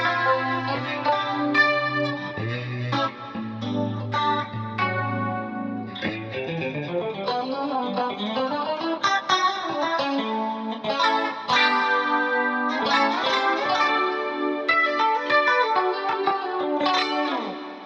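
Clean 1980s-style electric guitar with chorus, pitch detune, reverb and heavy compression plays shimmering arpeggiated notes and ringing chords, lush and wide, with no talking.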